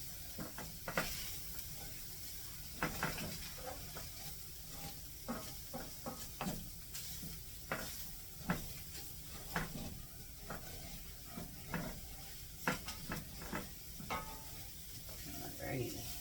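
Hamburger meat frying in a pan for a hamburger and fries potpie, a steady sizzle broken by repeated scraping and clicking of a utensil stirring the meat, close and fairly quiet.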